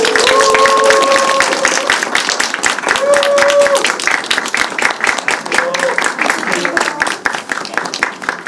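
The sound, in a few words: audience applause at a film screening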